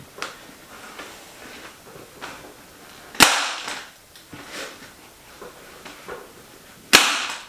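Staple gun firing into the seat cover of a Honda VFR750 RC36 motorcycle seat being recovered in a garage: two loud sharp snapping shots several seconds apart, with quieter clicks and handling noises between.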